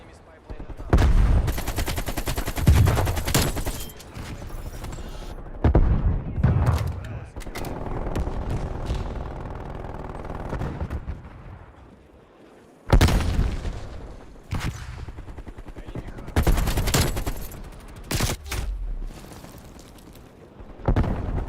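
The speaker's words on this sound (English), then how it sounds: "You're shooting one, and then somebody else is shooting you." Bursts of rapid gunfire in a video game shootout, loud volleys and single shots separated by brief lulls, with rumbling booms and some game noise underneath.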